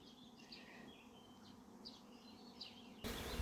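Honey bees buzz faintly around a hive during beekeeping, a soft steady hum under brief chirpy sounds, with a louder burst of noise at the end.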